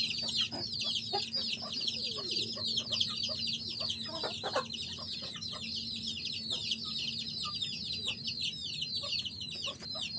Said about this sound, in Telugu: కోళ్ళు గుడ్లు పెడుతున్నాయి